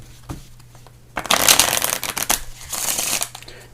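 A quick riffle of playing cards, crisp and close, a dense fluttering burst followed by a second riffle and settling shuffle noises.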